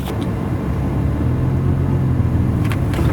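A manual-transmission car engine rumbles steadily and builds slightly as it accelerates, a low continuous drone heard from inside the vehicle with no talking over it.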